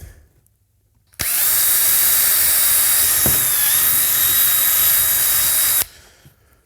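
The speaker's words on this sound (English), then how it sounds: "Now I have my appropriate size drill bit, and it's always good to start on one side." After a brief quiet, a power drill whines loudly and steadily for about four seconds while boring a hole in a Linhai ATV part, then stops abruptly.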